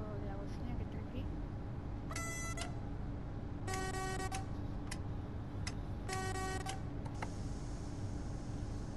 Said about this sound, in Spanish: Vamos a ir tocando la bocina que está aquí.